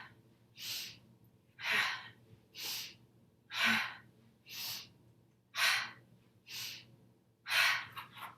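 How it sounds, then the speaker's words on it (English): Vigorous sniffing inhalations during a yoga breathing exercise come in a steady series of about eight sharp, close breaths, each roughly a second apart with quiet gaps between. "So it's a sniffing action."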